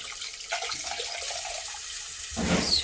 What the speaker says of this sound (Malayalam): പിന്നെ ആവശ്യത്തിനുള്ള വെള്ളവും കൂടെ ഒന്ന് ഒഴിച്ചു കൊടുക്കാം